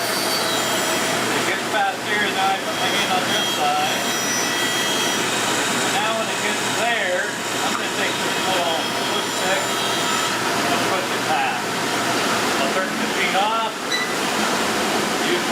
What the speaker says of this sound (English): So first I'm going to turn the dust collector on.